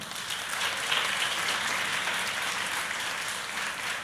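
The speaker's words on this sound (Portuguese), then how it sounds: "Un aplauso para él" Congregation applause at a church festival, a dense, even roar of clapping sustained for several seconds without a break, fairly loud and close.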